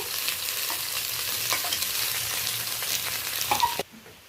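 Shrimp with pumpkin leaves and ash gourd leaves sizzles steadily in oil in a wok while being stirred, with scraping strokes near the end before the frying noise cuts off abruptly.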